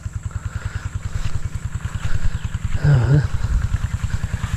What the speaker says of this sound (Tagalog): Napandar natin yung makina.